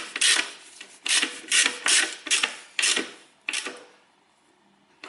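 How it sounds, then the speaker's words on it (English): A 14mm ratchet wrench clicks in several short bursts while tightening a bolt on a Toyota Corolla during a transmission fluid change, close and loud with brief pauses between strokes and no talking. "fasten that bolt next. There's my tool, 14mm"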